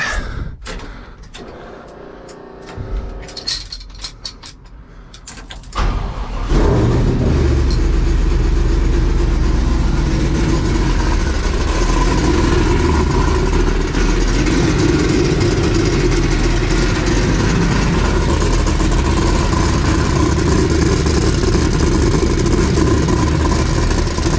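Hot rod car with electric exhaust cutouts, quiet clicking and shuffling first, then the engine cranks and fires into a loud, rough, steady idle with a deep lumpy rumble that holds close and strong.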